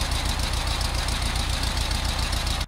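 Old, non-original air-cooled engine of a 1976 VW 1303 Cabriolet idling, a steady close rumble with a fast even pulse that holds at constant loudness throughout before cutting off at the very end.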